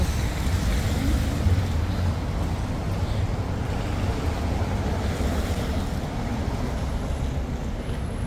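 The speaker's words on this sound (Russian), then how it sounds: "В общем, мы едем на корабле." A ship rides across open water, and a steady rush of waves mixes with wind buffeting the microphone in a continuous, fairly loud roar, with no talking.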